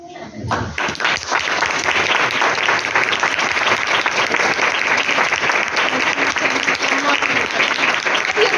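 Loud, sustained applause from a large audience at a Christian sermon, steady dense clapping that starts abruptly and continues without pause.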